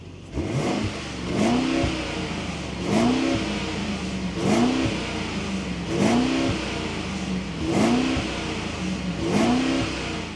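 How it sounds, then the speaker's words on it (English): A 2024 Mercedes-Benz GLS580 SUV engine revs repeatedly in a regular rhythm, each roar rising then dropping, about every second and a half, close and loud. "on the left, we have the 2024 Mercedes-Benz GLS580. Listen to that engine."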